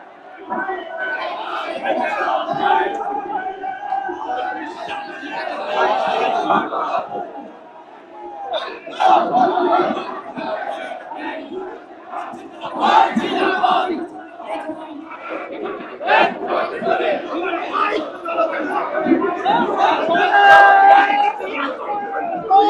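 Large crowd of Jamaat supporters on a protest march from Baitul Mukarram mosque in Dhaka, chanting slogans against a killing at Mitford; dense, loud, continuous massed voices rise and fall in waves with shouted call-and-response bursts throughout.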